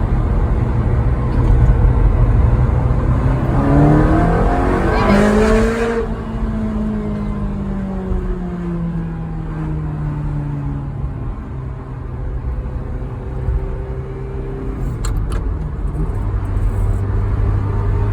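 Car engine revs in second gear through a rising whine, eases off into a steady drone under road noise, then climbs again; close and loud, no talking.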